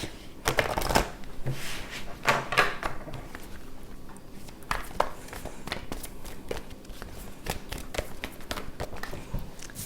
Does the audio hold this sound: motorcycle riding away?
no